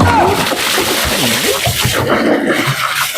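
Water splashes and sloshes as it is poured over a person, a few wet gushes close by with voices talking over the pouring.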